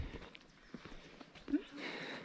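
A horse walking a trail toward a monarch butterfly reserve in the Mexican highlands, with an irregular run of hoof clops, one sharper knock partway through, and faint voices in the background.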